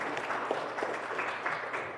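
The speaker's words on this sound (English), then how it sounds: "Give yourselves a round of applause." Congregation in a church breaks into steady, even applause, a dense wash of many hands clapping at moderate distance, filling the whole moment without speech over it.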